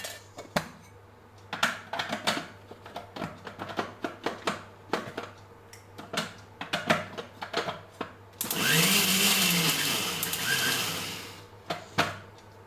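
A mixer grinder crushes green chilli, shallots, cumin, garlic, turmeric and salt in one loud, steady whirring burst of about three seconds, preceded by scattered clicks and knocks of handling.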